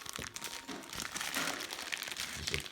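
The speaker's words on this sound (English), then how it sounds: "Zip that up." Ziploc plastic bag being pressed and zipped shut by hand, a steady close crinkling and rustling of thin plastic lasting a few seconds with no talk.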